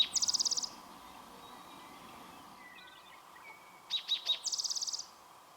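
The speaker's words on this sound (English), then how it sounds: "One landed right in front of me here, calling for its mate." A bird calls among sandstone hoodoos and rocks, two bursts of rapid, evenly pulsed high notes separated by a quiet gap, close and clear.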